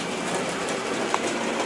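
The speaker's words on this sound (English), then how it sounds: "Just wait one more time for the train to come right in." A model train rolls along a layout, its steady rumbling clatter close and continuous for a short stretch with no voices.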